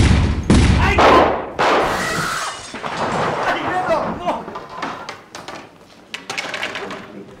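Gunfire bursts out in a film shootout, with loud cracks and booms clustered at the start, then scattered sharp shots and thuds amid shouting voices and commotion.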